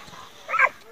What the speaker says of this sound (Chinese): 终于敢从拖拉机下钻出来发出犬吠声